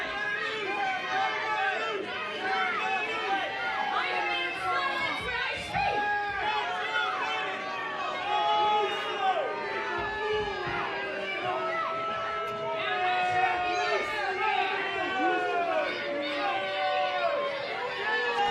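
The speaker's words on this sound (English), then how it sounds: "Crowd is so loud you can barely hear her." A loud indoor wrestling crowd at the Oshawa Legion Hall in Ontario, Canada, chattering and shouting at a steady roar, with a dense mass of overlapping voices drowning out any single speaker.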